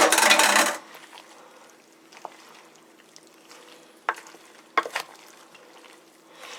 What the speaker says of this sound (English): fold all those noodles into all that sauce